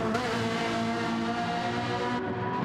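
Race car engines in a racing video game at the Nurburgring GP circuit, including a Ferrari, a steady close-up droning whine of engines at high revs throughout.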